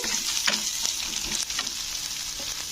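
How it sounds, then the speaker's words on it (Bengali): Turmeric and chili powder fry in hot oil for a pointed gourd dish, making a constant close sizzle broken by a few quick stirring scrapes. "এক চামচ হলুদের গুঁড়ো এক চামচ লঙ্কার গুঁড়ো তো দিয়ে এটাকে একটু কষে নিতে হবে তেলের মধ্যে"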